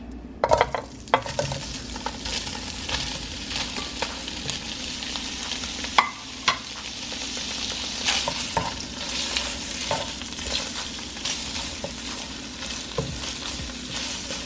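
Sausages browning in a pan of bacon grease and vegetable oil give a continuous loud sizzle, broken by occasional scraping and clinking from stirring, with no one speaking.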